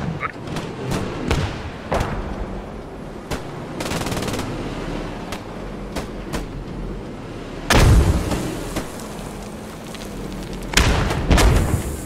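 Artillery and gunfire rumble across a Post Scriptum battlefield around a Tiger tank crew, with scattered sharp shots, a few heavy booming blasts near the end, and a low engine drone underneath.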